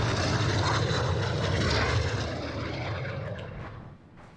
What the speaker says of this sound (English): I'm waiting for the Harrier to leave so I can hear